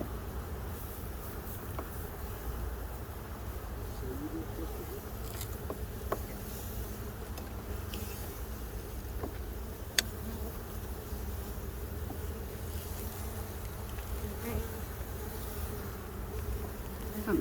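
Honey bees buzz continuously around hives in a bee yard at a nature center, a steady droning hum with occasional closer passes and faint clicks, no voices.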